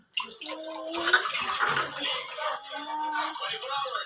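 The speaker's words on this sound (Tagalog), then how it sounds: "Balawan mo maigi, sige pa. Kailangan matanggal yung sabon." Water running over soapy dishes as they are rinsed, splashing and trickling close by while people talk over it.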